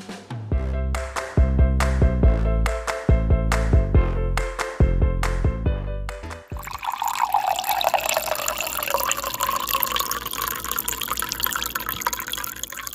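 Water runs steadily into a container for drinking, a continuous splashing pour that fills the second half of the clip, after a loud run of struck musical notes.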